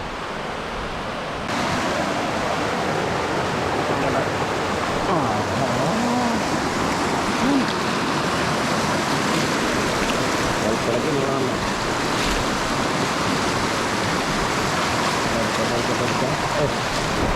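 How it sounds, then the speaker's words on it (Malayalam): A small waterfall deep in the Nelliyampathy forest pours in a steady, broad rush of falling water close by, an unbroken roar that continues throughout. "അത്ര വലിയ സംഭവമായിട്ടുള്ള വെള്ളച്ചാട്ടമല്ല"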